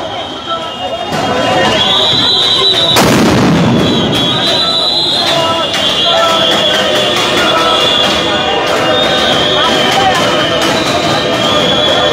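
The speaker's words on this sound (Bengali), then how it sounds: "আপনারা দেখছেন কয়েক দফা সাউন্ড গ্রেনেড দিয়ে আসলে তাদেরকে প্রতিহত করার চেষ্টা করছেন" Sound grenades bursting at a street protest, sharp loud blasts over a continuous crowd roar, with a high whistling tone running throughout and an announcer talking over the scene.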